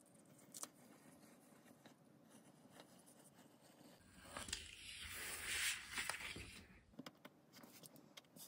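Scissors cut out paper sailor collar pattern pieces, with faint snips and paper rustles up close, then a louder stretch of crinkling and scraping before returning to quiet snipping.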